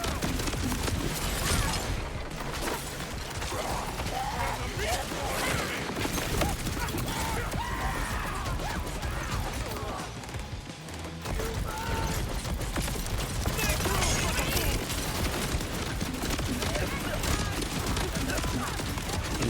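Dense, continuous Borderlands 4 gunfire, with rapid bursts and mechanical clatter filling the whole stretch loud and close, while a voice talks over it.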